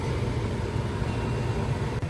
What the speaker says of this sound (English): I'm gonna turn on my little fan above my microwave